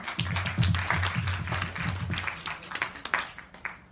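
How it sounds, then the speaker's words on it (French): Quiz show audience applauding two winners heading to the final round, a dense burst of clapping over steady low music, fading toward the end. "Vous pouvez applaudir bien fort, Léa et Clément."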